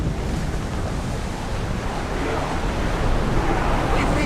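Steady ocean waves wash and hiss across open sea in Assassin's Creed Odyssey, a continuous broad roar mixed with wind, without pause or distinct breaks.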